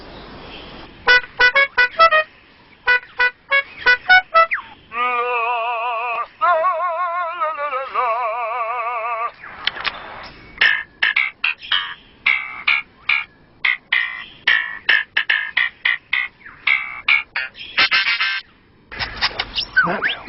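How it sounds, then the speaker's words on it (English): A male bird sings a complex courtship song of rapid click bursts and a warbling, siren-like stretch, loud and close, with no voices. "To persuade females to come close and admire his plumes, he sings the most complex song he can manage."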